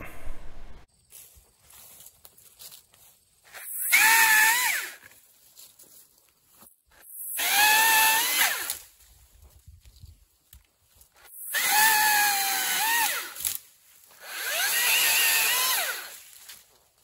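Cordless power drill driving screws during assembly of a Makita 36V 13 ft telescoping pole saw (XAU02PTB): four separate whirring bursts of a few seconds each, up close, with quiet gaps between them.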